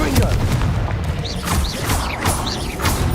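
In Hogwarts Legacy, the Confringo blasting spell sets off dense, booming bursts with crashing impacts and whooshing effects, loud and close. Game music and voices run through the mix.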